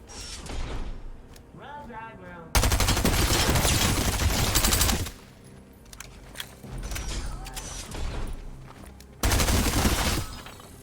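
Bursts of gunfire in Fortnite come in two loud, dense volleys of rapid shots, separated by quieter game sounds and some fainter clatter.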